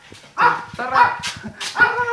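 A small dog barks several times in quick succession, sharp and yippy, close by with short pauses between barks.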